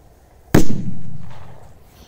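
A single loud firecracker bangs close by with a sharp crack, followed by a rumbling echo that fades over about a second and a half, during a fireworks test; no one speaks.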